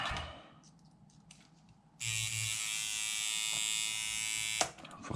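Coil tattoo machine running after a spring tension adjustment, a steady bright electric buzz that starts abruptly and holds for about two and a half seconds before cutting off, loud and close, preceded by quieter handling noises.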